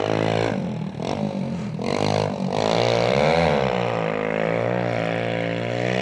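A motorbike doing donuts on the sand on the Solway Coast revs nearby with a rising and falling engine whine, its pitch sweeping up and down as it circles.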